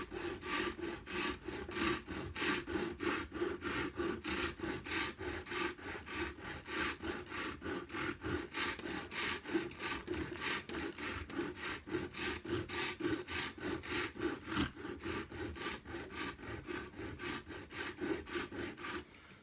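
Continuous rhythmic rasping and scraping of traditional hand tools such as chisels, gouges, knives and a rasp working a rounded wooden carving, close and steady throughout with no talk.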